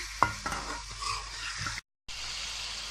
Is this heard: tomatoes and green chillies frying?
yes